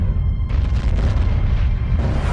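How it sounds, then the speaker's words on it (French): A massive gamma ray burst rendered as a deep, sustained explosive boom, loud and rumbling throughout with a brighter surge partway in, heard alone without any voices. "Ces explosions massives pourraient dévaster la Terre."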